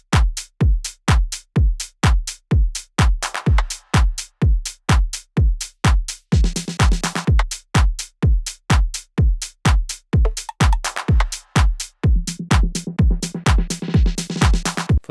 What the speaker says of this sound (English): All the drums together sound like this.